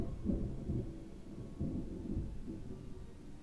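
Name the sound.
loud thunder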